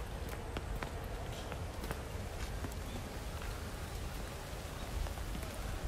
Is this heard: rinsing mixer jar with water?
no